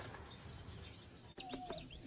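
Chicks hidden under the wing of a Khaki Campbell duck give a few faint, thin peeps on a cold, rainy day. The peeps come after a soft rustling background and sound distant and quiet.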